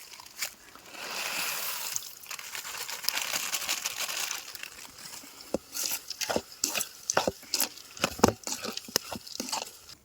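Maggi noodles go into a cooking pot outdoors in the hills, bringing crinkling packet rustles followed by a series of close clattering knocks and light splashes as the noodles drop in.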